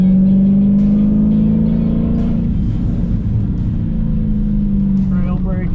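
A Dodge Challenger or Viper race car on the Radford Racing School track at full throttle, its loud, steady engine drone climbing slowly in pitch, with a voice talking over it near the end.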